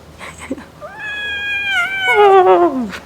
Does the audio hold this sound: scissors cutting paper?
no